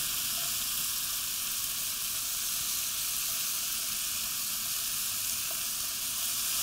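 Duck pieces browning in a very hot pan, a loud, even, continuous sizzle that holds steady close up with no talking.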